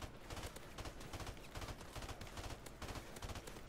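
Rapid, dense gunfire in the video game Call of Duty MWR, continuous bursts of automatic shots crackling in quick rhythmic succession throughout, loud and sustained without speech.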